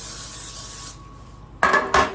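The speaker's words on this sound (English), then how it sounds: "So now I'm going to spray" Cooking spray hisses into a parchment-lined cake pan for a lemon pound cake, two short bursts close up after a quiet pause, with no talking.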